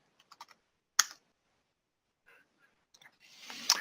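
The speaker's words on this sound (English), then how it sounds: "So I'll go ahead and type in" Typing on a computer keyboard while entering a command value in a CAD program, a few quiet scattered key clicks, one sharper keystroke, then a short run of taps, close and faint.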